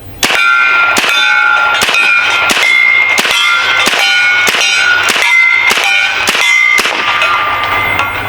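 An S45 air rifle fed from a 22-round magazine fires pellets that strike a metal target, giving about nine sharp, loud clangs, each ringing briefly, in a fast, steady rhythm with no talking.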